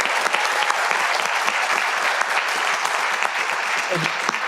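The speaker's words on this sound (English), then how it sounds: "So if we can give them a round of applause for the work they've done" An audience at a public panel on Guelph's future transportation breaks into a steady round of applause, dense and even throughout.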